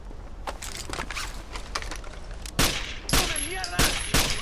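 Rifle gunfire in a video game: a series of sharp, loud shots, some spaced and some in quick bursts, becoming louder and denser toward the end, with a faint mechanical whine between shots.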